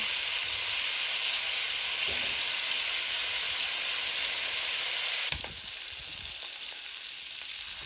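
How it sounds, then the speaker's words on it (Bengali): Shrimp frying in oil in a pan give a steady, loud sizzle with a bright hiss throughout, broken by a few soft clicks and a sharper clatter near the end, and no voices. "আমার চিংড়ি মাছটাও ভাজা হয়ে গেছে।"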